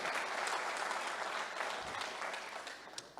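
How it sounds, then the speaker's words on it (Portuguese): Church congregation applauding during a sermon, a dense, continuous wash of clapping from a large crowd that stays loud throughout and tapers slightly at the end. "Aplaude a Deus, aplaude."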